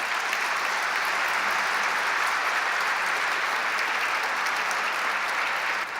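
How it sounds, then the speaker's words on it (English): Steady, dense applause from a crowd at a New York civic event with Governor Andrew Cuomo, sustained and even for several seconds before cutting off sharply at the end. "Let's give them a round of applause."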